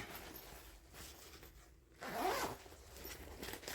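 A zipper on the front of a small bag or belt pouch being pulled, a soft scrape at first and then a louder, rasping zip in the middle, close and quiet, with no voices.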